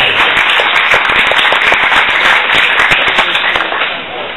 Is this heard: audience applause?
yes